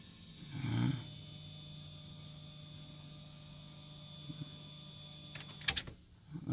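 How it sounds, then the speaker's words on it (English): A faint, steady electric whine from a fuel pump in an OBS truck's electric fuel setup hums continuously at low level, with a few soft clunks and a brief clicking burst near the end. "I hear the pump kick on."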